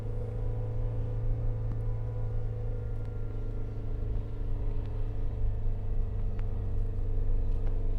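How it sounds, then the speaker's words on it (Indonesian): A car engine labours steadily in low first gear while climbing a long, steep hill at night on the route to Dieng via Kajen, a constant loud droning rumble that builds slightly toward the end. "Kalau di kamera tuh kedengeran suara mesin mobil yang gereng, itu karena emang tanjakannya lumayan tinggi lah."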